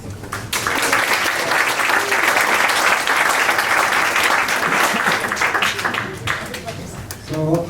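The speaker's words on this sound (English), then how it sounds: "welcome them with a big applause" A tech meetup crowd in London applauds to welcome conference speakers: after a moment of quiet the clapping swells into a sustained, dense round, then thins out near the end as a few last claps and voices come through.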